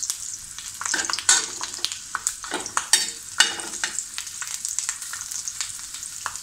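Ginger and garlic sautéing in a pan for misal, a steady hissing sizzle broken by repeated scraping stirs, close and alone with no talk.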